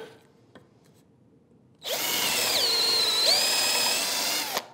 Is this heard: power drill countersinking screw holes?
yes